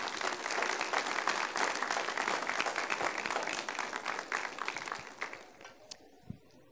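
A church congregation breaks into sustained, dense applause that fills the room, then thins out and fades near the end, leaving a few scattered last claps.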